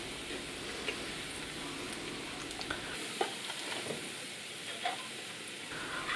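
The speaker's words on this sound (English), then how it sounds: "pop your onions in, stir them around, just let them soften for about 5 minutes" Onions and garlic soften in a pan on the stove, giving a steady, gentle sizzle broken by occasional stirring scrapes, close and moderately quiet with no talking.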